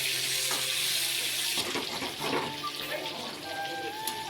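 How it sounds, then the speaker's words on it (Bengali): Pointed gourd (potol) pieces fry in oil in a pan with a close, steady sizzle, broken by brief stirring clatter midway, while a voice speaks faintly over it. "পটলগুলো কিন্তু এইভাবে ভেজে নেবে"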